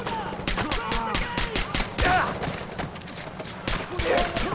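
Rapid automatic gunfire in the video game Far Cry 4, loud and close, with dense repeated bursts of shots rattling almost continuously, joined by occasional single reports and a voice speaking briefly over the firefight.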